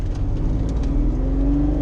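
Ferrari Testarossa engine, converted from mechanical fuel injection to Bosch or Motec EFI, revving hard toward redline: a loud, close, continuous roar whose pitch climbs steadily, with no talking.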